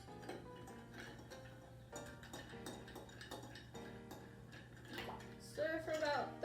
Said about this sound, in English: Add some ice into that, and give that a stir.